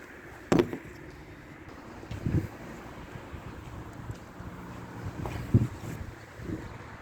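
Steady outdoor wind roars low and broadband around a pig pen repair site on a very cold, gusty day, with a few sharper bumps and knocks breaking through the continuous rush.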